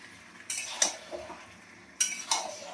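A utensil scrapes and clinks against a pan while mint chicken kosha is stir-fried dry, four or five distinct metallic strokes in two pairs, close and fairly quiet.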